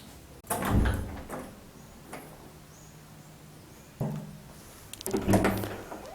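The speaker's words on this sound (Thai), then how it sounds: "เปิดประตูให้อากาศอะระบายออกทั้งสองทางนะ" A bathroom door is opened, with a clack and creak near the start, quieter knocks and shuffles in between, and a second clatter of handling toward the end, heard close in a small room.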